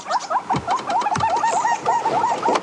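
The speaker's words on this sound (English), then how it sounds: "And there's an interesting bird calling there." A bird on a sunrise safari drive repeats a rapid, warbling call over and over, fairly close, with light rustling and patter around it.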